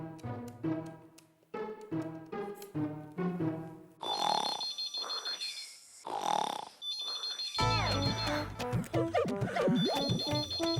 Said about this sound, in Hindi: ओके ठीक है, मैं वनराज को फोन करती हूँ।